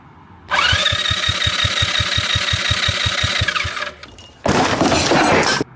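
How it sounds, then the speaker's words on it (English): A small go-kart engine cranks over during a compression test with a steady rapid chugging rhythm for about three and a half seconds, stops, then a brief burst of harsh noise follows. "I'm gonna go ahead and crank the engine over"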